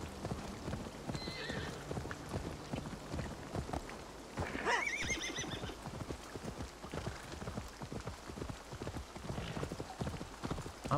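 Horse hooves clip-clop in a steady trotting rhythm in Assassin's Creed Odyssey, with a clear whinny rising in the middle and a soft rain-like patter underneath, faint and without speech.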